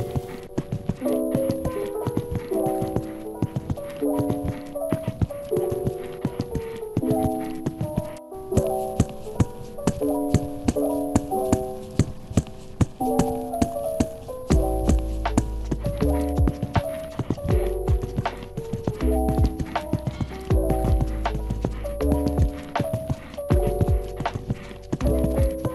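Horse hooves clip-clop in a steady walking rhythm during a ride around the stables in the online horse game Star Stable, over continuous background music.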